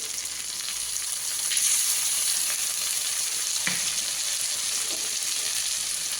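Mustard and radhuni spice paste with green chillies, Kashmiri chilli powder, salt and turmeric frying in a pan, a steady close hiss of sizzling oil with faint occasional stirring scrapes, no talk.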